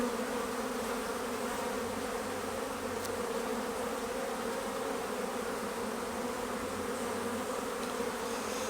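Honeybees buzz steadily around an open beehive during a brood-frame inspection, a continuous dense hum at close range with no talk.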